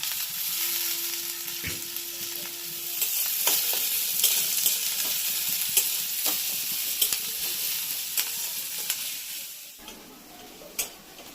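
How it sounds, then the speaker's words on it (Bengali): Chopped garlic and ginger sizzle and fry in hot oil in a pan while egg chop is being made, a steady close crackle broken by occasional sharp ticks and stirring clinks. "এতে আমি রসুন কুচিগুলো দিয়ে দিলাম। আদা কুচিগুলো দিয়ে দিলাম।"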